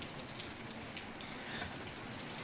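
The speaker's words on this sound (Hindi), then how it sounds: "बारिश भी हो रही है।" Steady rain mixed with falling snow patters continuously on surfaces, a soft, even outdoor hiss with no voices.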